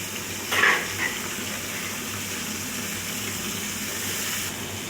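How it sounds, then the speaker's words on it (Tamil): Water poured into a pan while cooking bottle gourd tamarind curry, with a short splash at the start followed by a steady, soft rushing hiss close by. "இந்த அளவு தண்ணி இவ்வளோ ஊற்றிக்கலாம்."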